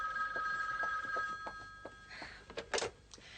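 A telephone bell rings in a steady repeated pattern indoors in a French film scene, with a few soft knocks and movements toward the end.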